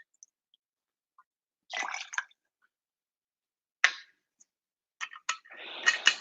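Liquor poured into a shot glass at a home cocktail bar, heard as a few short, close splashing bursts separated by quiet gaps, with a longer trickling pour at the end.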